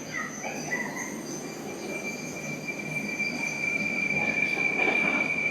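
A Moscow metro train on line six runs with a loud, sustained high-pitched squeal from its wheels over a constant rumble, building slightly louder as it goes, with no talk.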